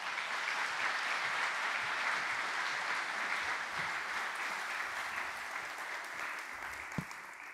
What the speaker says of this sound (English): could you please put your hands together and join welcoming Dr.